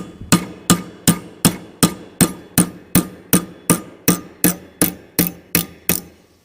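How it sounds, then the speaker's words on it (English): Steady metal hammering on a pin while shaping a spur, about fifteen sharp ringing blows at an even, quick rhythm, close and loud with no talk. "Now I keep hammering it right there on that pin."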